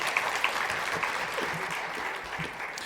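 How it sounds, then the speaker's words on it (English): Conference audience applauding a government minister, a dense, even wash of clapping from a room of people with a few louder individual claps near the start. "Round of applause for him, please."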